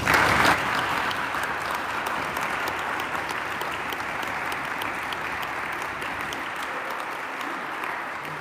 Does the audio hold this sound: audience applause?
yes